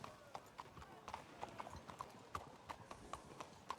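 Horse hooves clip-clopping at a steady walking pace in a western trail-ride video game roleplay, the regular crisp hoofbeats repeating throughout, moderately close and faint under occasional background voices.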